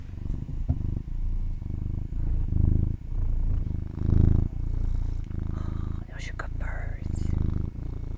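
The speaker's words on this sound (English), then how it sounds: "Healing purrs from my just sweet boy." A male cat purrs steadily and close to the mic, a low rumbling drone in rhythmic waves, with soft whispery sounds and faint higher noises near the end.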